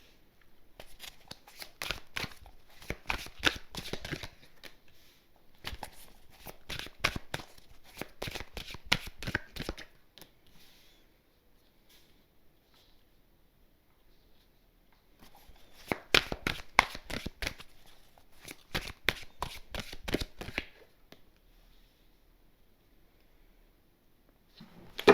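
Tarot cards are shuffled by hand in repeated bursts of rapid riffling and slapping, four long rhythmic runs separated by quiet pauses, close and crisp with no talking.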